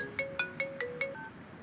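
Phone ringback tone on an outgoing call, heard as five evenly spaced electronic rings about 0.2 seconds apart with no other sound.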